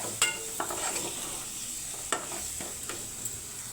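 A spoon scrapes and stirs turmeric through rice seasoning in a hot pan, giving a steady low sizzle with a few light clinks against the metal.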